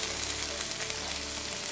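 A spice mixture fries in a pan with a dense, even sizzle and faint stirring, close and continuous throughout.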